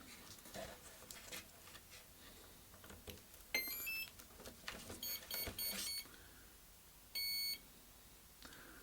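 Several short electronic beeps from an RC model's ESC initializing after the main battery pack is connected, quiet and close, spaced irregularly with a longer tone near the end over faint background handling.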